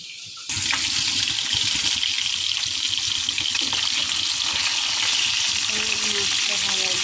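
Fish hits hot oil in a pan and sets off a sudden loud, dense sizzle that keeps up steadily and close, with a faint voice briefly underneath near the end.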